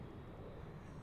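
Airliner traffic at Dallas/Fort Worth International Airport, heard as a steady, faint low engine rumble that holds evenly throughout the short stretch with no voices.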